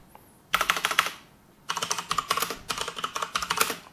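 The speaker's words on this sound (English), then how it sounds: "So we type in list volume, again, hit enter." Fingers tap out commands on a computer keyboard up close, a short burst of clicking keystrokes, a brief pause, then a longer quick run of key presses, with no talking over it.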